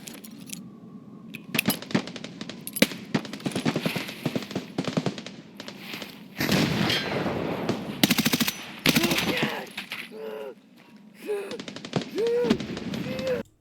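Gunfire in the video game Escape from Tarkov: bursts of automatic fire and sharp single shots crack repeatedly across the stretch, loud and close, with quieter gaps, shuffling movement and brief tonal game sounds between volleys.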